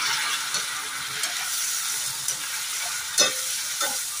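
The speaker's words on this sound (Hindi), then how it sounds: "अब इसमें डालूंगी मैं ये जो पेस्ट बना के रखी हूँ ये डालूंगी इसको।" Paste with onions stirred and frying in a pan for a healthy peas and makhana curry, a steady close sizzle with occasional scraping stirs, no talking.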